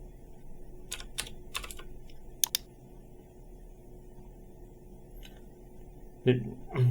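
Someone types a search for a blur filter in Photoshop 2024 on a computer keyboard. Scattered, crisp keystrokes come in a few quick clusters over a low steady hum, with a couple of louder knocks at the end.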